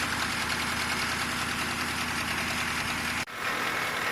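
A John Deere 2010 tractor engine idles steadily and close by with a low rumbling drone, briefly cutting out near the end before resuming.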